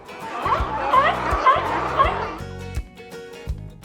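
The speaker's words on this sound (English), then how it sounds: "Sea lions are loud and bark like dogs." Repeated dog-like barks from a sea lion, several loud close calls in quick succession over the first two seconds, then a few shorter yips.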